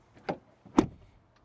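An Audi Q5 door closes with two soft, dull thumps roughly half a second apart, heard up close in a quiet setting.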